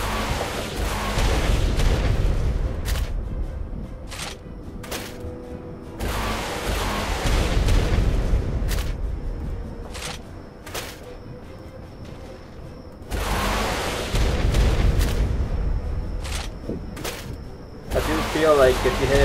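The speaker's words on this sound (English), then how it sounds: "Only brought one rocket launcher." Rocket launcher explosions in the video game Ark rumble in a series of deep booms and bursts, loud and close, with a steady noisy background between blasts and people talking over the action.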